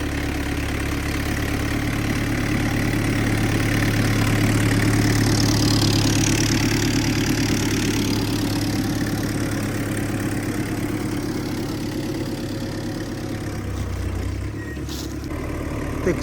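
A large tractor runs steadily with a big ridger implement hitched behind, its heavy diesel engine droning loud and close with a constant low rumble throughout, no voices.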